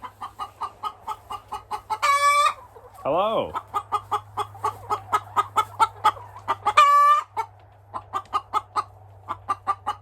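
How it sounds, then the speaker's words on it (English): Noisy hens cluck in steady rapid bursts close by on a farm, with two loud squawking calls and a brief rising squawk, while a low hum runs underneath and a voice briefly speaks. "you can come check out the noisy hens here"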